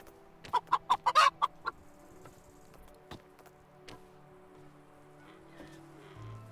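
Chickens in the video game Medieval Dynasty let out a quick run of sharp clucks early on, then only a few sparse, quiet sounds over a faint background hiss.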